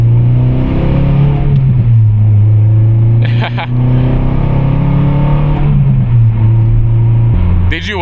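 Racing cars heard from inside a car, with a loud steady engine drone that shifts pitch as the vehicle speeds up and slows down, running throughout under some speech.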